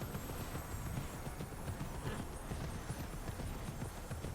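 Deer mount hooves trot in Immortals Fenyx Rising, a steady quick clip-clop rhythm running continuously at moderate loudness.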